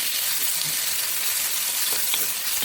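Minced meat with onions and garlic frying in a pan over an open flame, giving a steady close bright sizzle and hiss with small crackles, no talking.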